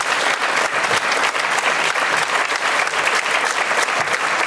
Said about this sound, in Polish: Ogromne brawa